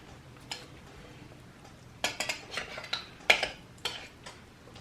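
Whole green beans with their juice strained off get stirred in a pot, the spoon scraping the bottom and knocking the metal in a run of light, irregular clinks and scrapes that grow busier after a quiet opening.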